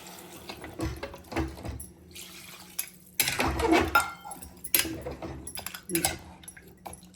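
Water is added to a pressure cooker for paya soup, with a near splash and pour amid clinks of pots and utensils, while a voice talks intermittently over it.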